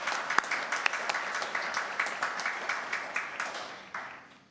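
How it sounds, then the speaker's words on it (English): At a board of health meeting, an audience gives the board chair a round of applause: steady clapping with sharper individual claps standing out, gradually thinning and fading toward the end. "I would ask you all please for a round of applause for our chair"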